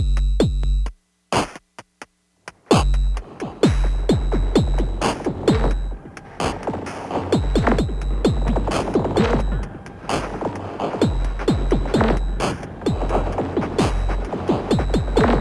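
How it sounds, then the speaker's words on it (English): Percussive synth hits run through the Erica Synths Echolocator desktop delay and reverb unit, opening with a few stuttering bursts and a short gap, then settling into a dense, rhythmic, throbbing pattern of echoing thuds, without speech. "The Echolocator is a desktop delay and reverb unit"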